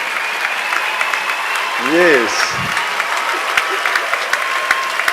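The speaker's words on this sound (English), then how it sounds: "Get up and cheer them, please. Get up and cheer them." A graduation audience for medicine and health sciences claps and cheers continuously, a dense wash of applause, while a speaker's voice briefly rises over it.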